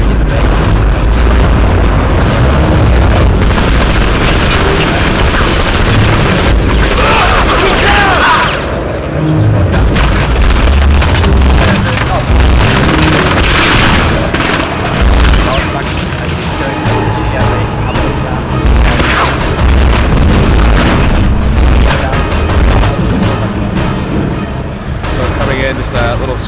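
Constant explosions and gunfire rumble through a Command & Conquer 3 firefight in a 2008 tournament match, loud and unbroken beneath commentators talking the whole time.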